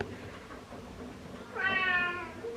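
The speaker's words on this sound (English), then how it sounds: "is meowing at me because she wants to sit on my lap." A pet cat meows indoors at home, a faint rustle first and then one clear, drawn-out meow close by.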